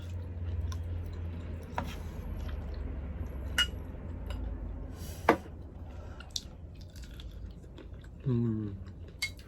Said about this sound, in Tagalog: Ang bilis kong kumain, no?